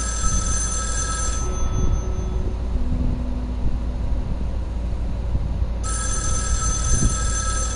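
A telephone rings in the horror video game Erica, its high electronic bell bursting in at the start and again near the end, loud over a steady low ambient drone with no talk.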